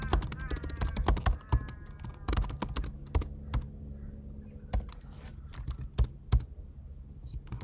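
Fast typing of code on a computer keyboard, close and crisp, with irregular bursts of clicking keys and short pauses between runs of keystrokes.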